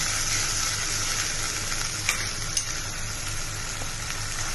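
Fenugreek leaves stirred in a cooking pan with water, giving a steady, close sizzling hiss with a low hum underneath and a couple of sharp scrape clicks from the utensil.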